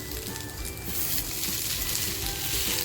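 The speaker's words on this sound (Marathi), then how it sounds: "हे मी फ्राय करणारे पण तेल न टाकता फ्राय करणारे" Pieces of surmai fish wrapped in banana leaf sizzling in a hot pan with no oil, a steady close hiss that grows slightly louder and stays continuous.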